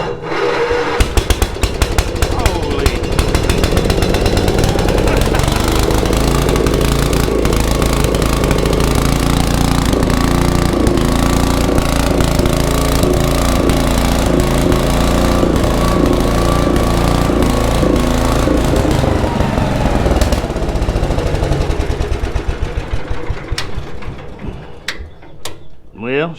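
A cold gas-powered welder bought at auction runs loud and rough for about twenty seconds, its engine clattering with rapid mechanical knocks, then dies as it stalls; someone talks excitedly over it.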